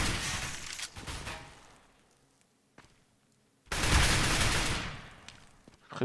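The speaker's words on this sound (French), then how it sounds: "qui tombe sous les balles de Riston" Gunfire in Counter-Strike: Global Offensive on the Mirage or Cache map, with loud close bursts of rapid shots, a quiet gap broken by a single shot, then another long sustained volley.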